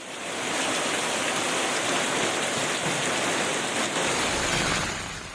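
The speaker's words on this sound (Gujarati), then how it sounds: "આસપાસના વિસ્તારોમાં પણ ધોધમાર વરસાદ વરસ્યો" Heavy rain pours steadily in a region of Tamil Nadu, a dense continuous hiss of downpour that holds at an even loudness throughout, with no voices present.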